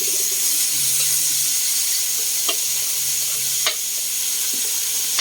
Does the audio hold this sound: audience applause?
no